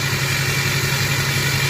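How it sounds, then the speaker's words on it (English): A diesel pickup truck (LBZ engine) with an MBRP turbo-back exhaust idles steadily, giving a continuous low rumbling exhaust note with turbo whoosh, close and alone. "there's actually an exhaust note there instead of just a whooshing noise"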